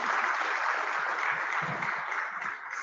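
An audience at a conference session claps for the presenters. The applause is continuous, evenly dense and moderately loud for about three seconds, easing slightly at the very end, with no talking over it.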